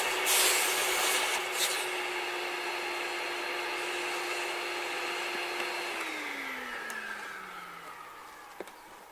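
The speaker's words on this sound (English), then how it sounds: "So then again, the vacuum cleaner." A vacuum cleaner drones steadily and loudly, then its motor pitch slides down as it winds off near the end.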